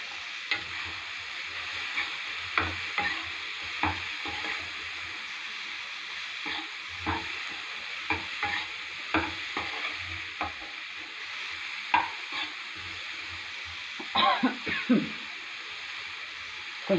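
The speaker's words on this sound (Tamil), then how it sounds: "நம்ம இன்னும் கொஞ்சம் எண்ணெய் ஊற்றிக்கலாம், ஏன்னா இது புளி குழம்புல, அதனால எண்ணெய் ஊற்றிக்கலாம்." Tamarind curry (puli kuzhambu) sizzles steadily in hot oil while a spoon stirs it, scraping the pan in irregular knocks over a constant frying hiss.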